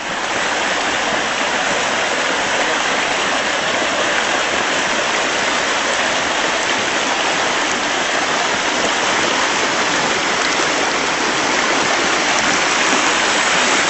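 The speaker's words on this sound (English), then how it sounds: "Waterfalls are still falling." A waterfall flowing outdoors, heard as a continuous broad rushing roar of falling water, loud and unchanging throughout with no voices over it.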